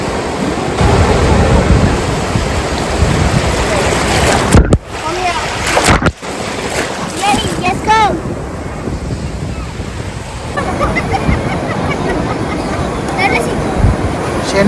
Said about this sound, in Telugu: మనం బీచ్కి వెళ్తే సముద్రం దగ్గర అలల సౌండ్ చాలా బాగుంటుంది కదా